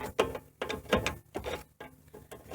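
A wrench turning an aluminum brake line flare fitting during a brake master cylinder replacement, a series of six short rhythmic ratcheting clicks, close and fairly quiet.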